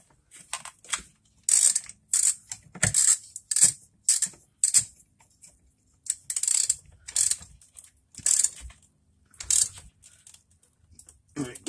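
A wrench ratchets in short bursts while a nut is tightened on a Ford brake booster pushrod, giving close, sharp metallic clicking in repeated clusters separated by brief pauses.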